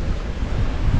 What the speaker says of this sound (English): Much, much, much too windy.